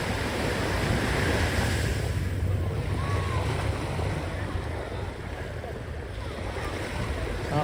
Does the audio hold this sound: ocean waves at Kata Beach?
yes